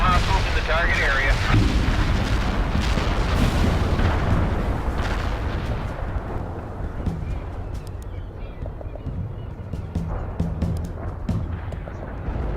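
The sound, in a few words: artillery barrage explosions in video game World in Conflict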